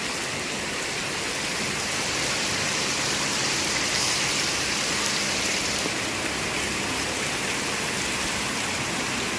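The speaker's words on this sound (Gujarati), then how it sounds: "તમે જુઓ તો ખરી કેટલો વરસાદ આવે છે." Heavy rain with large drops pours steadily, a dense continuous hiss of drops striking surfaces and waterlogged ground with no pauses.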